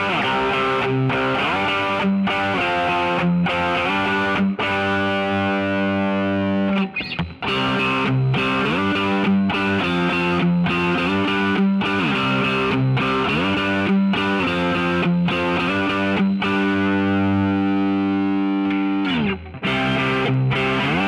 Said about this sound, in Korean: 드라이브 톤 살짝 들려드리자면은, 자, 이것도 그냥 편안하게 10으로 할게요.